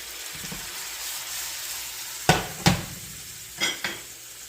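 Steak for quesadillas sizzles softly in a hot pan under a steady frying hiss. A few sharp scraping clanks of a utensil against the pan cut through near the end.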